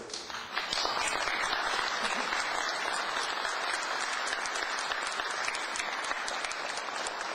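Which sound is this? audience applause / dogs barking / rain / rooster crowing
audience applause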